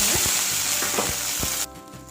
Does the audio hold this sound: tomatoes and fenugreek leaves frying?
yes